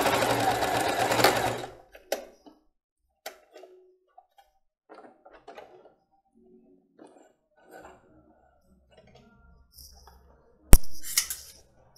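A home sewing machine runs a short burst of small zigzag stitching, a quick mechanical whir followed by scattered clicks and handling taps, then a brief second burst.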